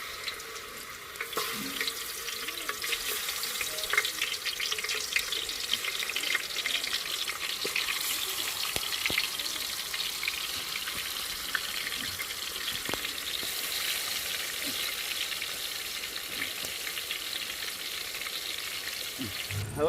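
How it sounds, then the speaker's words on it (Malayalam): Chicken pieces fry steadily in hot palm oil, a continuous dense sizzle and crackle that holds close and loud for the whole stretch, with no voices over it. "ചിക്കൻ ഒന്ന് പൊരിച്ചെടുക്കാം."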